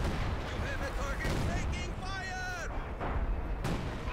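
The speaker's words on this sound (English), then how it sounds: "they're barraging us over here" Booming artillery barrage in Company of Heroes 2, with thudding blasts and gunfire under overlapping game voices and rising whistling tones, dense and close throughout.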